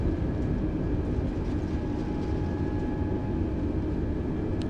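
Thrust reversers roar on an A32NX airliner landing in Microsoft Flight Simulator, heard as a steady, dense low rumble with a faint whine above it, constant and unbroken, with no voices.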